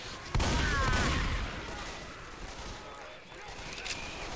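Gunfire in the game Left 4 Dead 2 opens with a loud, close burst of shots. It fades into a rumbling, noisy background with a faint later crack.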